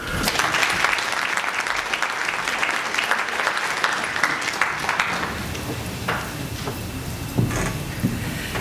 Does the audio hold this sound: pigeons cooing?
no